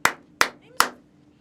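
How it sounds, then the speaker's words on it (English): Three sharp hand claps, evenly spaced about 0.4 seconds apart, each loud and close with a quick decay, made to sync audio with a camera before recording a podcast. "So we just recommend that you clap a few times"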